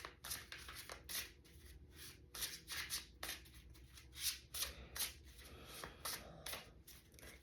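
Tarot cards being shuffled by hand, a quick series of soft riffling bursts in an uneven rhythm, close but faint.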